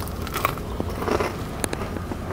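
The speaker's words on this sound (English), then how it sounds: "As you can hear, you got a really nice crunch on that." Crisp crunching bites into crispy deep-fried ribs, a few sharp crackly bursts close to the mic with no talking.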